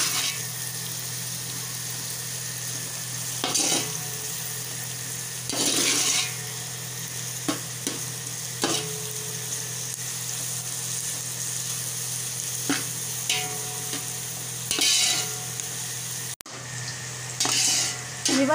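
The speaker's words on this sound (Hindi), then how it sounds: "और इस प्याज को जो है हमें ब्राउन करना है।" Onions fry and get stirred in a pan until brown for a beef potli yakhni pulao, a steady soft sizzle with intermittent scraping stir strokes, close and fairly quiet, no talking.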